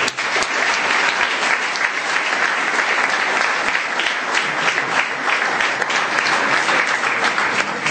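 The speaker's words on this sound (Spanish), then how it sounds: "yo un sincero aplauso y reconocimiento a" Sustained, dense applause from an audience at a political rally in Mendoza about the Malvinas, loud and steady throughout with no speech over it.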